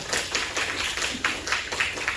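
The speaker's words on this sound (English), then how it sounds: "So let's give Miss Chang a little round of applause as well." An audience at a beginning orchestra fall school concert claps for a student teacher, a dense steady patter of many hands at fairly close range, with no talking.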